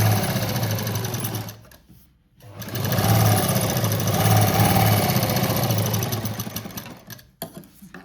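A sewing machine runs a straight seam joining a patchwork piece cut from a sari border. The whirring is steady and close, with a brief pause near the start and a short stop-start at the end, and no talking.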